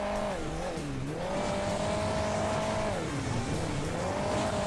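In the Hill Climb Racing 2 game, a vehicle drives on boost. Its engine whines steadily and loudly, with the pitch rising and falling through revs and a tire squeal, and there is no talk.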